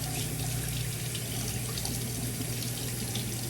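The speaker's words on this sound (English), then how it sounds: "I'm gonna go ahead and wash my face so I can get this stuff off of me" Water runs steadily from a tap into a sink while someone washes their face, a continuous close rush with slight splashing and no talk.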